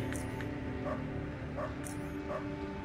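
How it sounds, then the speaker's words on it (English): A dog in the video game Underrail gives a few short, evenly spaced barks and yips, faint under steady background game ambience. "A dog? Really?"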